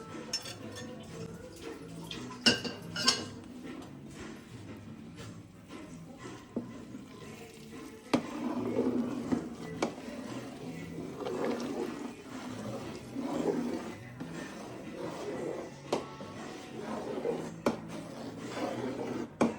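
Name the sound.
mixing rice in a cooking pot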